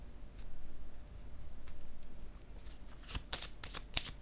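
Oracle cards handled and shuffled by hand, a soft riffling swish followed by a few crisp, close card snaps as cards are laid down on a table, no talking.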